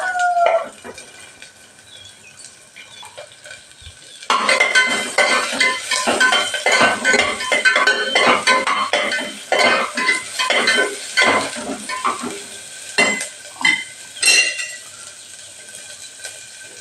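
Cinnamon, fennel, then garlic and onion frying in a pan for a home breakfast, a quiet sizzle that jumps much louder partway through as the new ingredients hit the hot oil, with steady crackling and scraping stirs.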